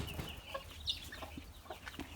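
Chickens in a backyard flock, a hen with a few late-summer chicks, give soft repeated clucks and thin high peeps, close and fairly quiet, with no talking.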